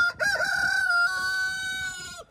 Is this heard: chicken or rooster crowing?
yes